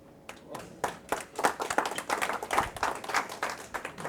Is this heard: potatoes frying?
no